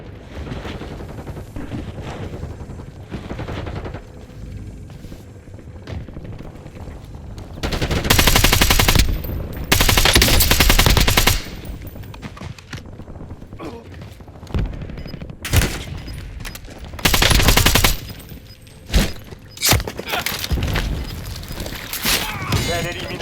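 Automatic gunfire rattles in a shooter video game, with several loud sustained bursts and shorter volleys between quieter stretches of game sound and voice lines.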